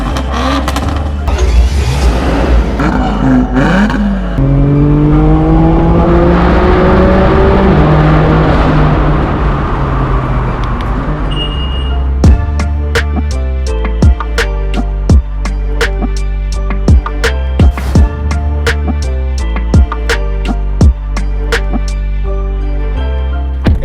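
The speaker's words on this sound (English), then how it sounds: "You guys join me inside my straight pipe BMW M4." A straight-piped BMW M4 F82 roars through a tunnel with a loud, rising acceleration howl, then lets out a rapid string of sharp pops and crackles from the exhaust, heard up close from inside the car.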